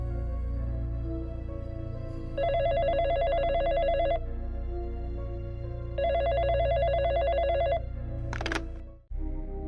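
A phone at a fifth-floor hospital desk rings in two long trilling bursts over a low steady hum, followed by a brief high electronic beep before the sound cuts out.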